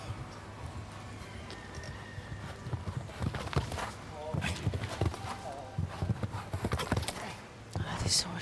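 Horse hooves thud and clip-clop across an arena during a show jumping round, uneven strides building in loudness, with a commentator talking over them and crowd noise behind.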